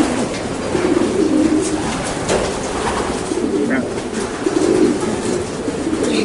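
Racing pigeons cooing close by in a loft in soft, low repeated bursts, with a faint steady background hum.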